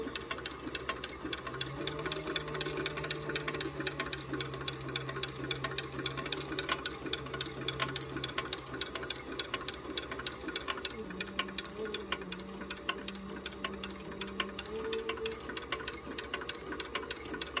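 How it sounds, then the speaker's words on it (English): A Cobra Class 26 sewing machine stitching a leather handbag handle at stitch length 2 makes a steady, rapid mechanical chatter of needle strokes throughout, close and moderately quiet, with a faint motor hum underneath. "I am sewing with a Cobra Class 26, and my stitch length is on 2"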